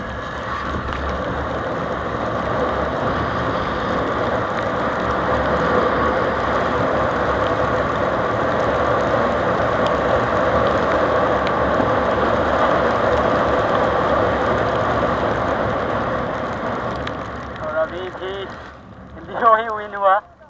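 Honda Dio and Honda Ray ZR scooter engines drone steadily during a highway drag race, a sustained mid-pitched hum under wind, with talking and a brief burst of revving near the end.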